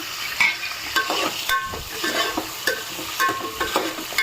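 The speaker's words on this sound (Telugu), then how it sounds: "ఇవి ఒక 10 మినిట్స్ వేగాలి." Drumstick, potato, okra, green chilli and carrot frying in a pan for hotel-style sambar, with a steady close sizzle broken by repeated sharp scrapes and knocks of a stirring spoon, no voices.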